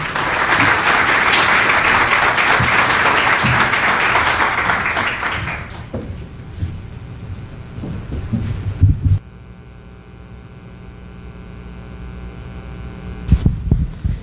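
Audience applause at a customer experience summit panel session, a dense steady clatter of many hands filling a large room, then fading out after about six seconds into a quiet room hum with a few scattered low thumps.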